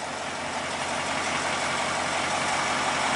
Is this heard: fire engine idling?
yes